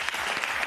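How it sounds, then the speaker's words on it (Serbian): A studio audience breaks into applause for the guests on a talk show, a brief burst of dense, even clapping. "Jedan aplauz za njih."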